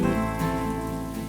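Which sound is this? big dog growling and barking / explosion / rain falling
rain falling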